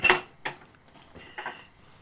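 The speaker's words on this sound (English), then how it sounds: "Now you want to keep stirring." A spoon scraping and clinking against a pot while white broccoli soup (brocco-kro) is stirred, several short metallic knocks spaced irregularly, close and fairly quiet, with no talking.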